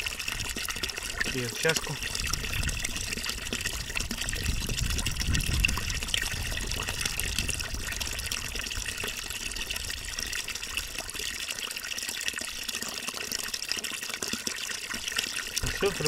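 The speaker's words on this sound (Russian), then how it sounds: "Вода очень чистая бежит, можно сказать, минералка" Tap water runs in a steady, close rush over freshly cleaned golden crucian carp caught in a lake, with a brief spoken remark over it.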